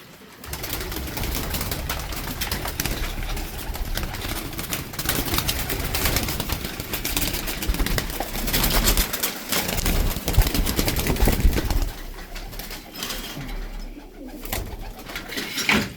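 Sport tippler pigeons coo continuously and close by in a dense, overlapping flock chorus, with a faint engine hum underneath.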